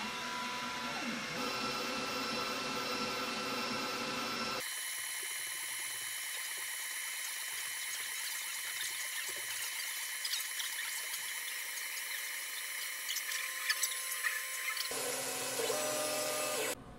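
An xTool S1 laser engraver running an engraving job, a steady mechanical whir with a high-pitched whine and faint ticking from the moving gantry, continuous and fairly close, shifting in tone when the job starts and near the end.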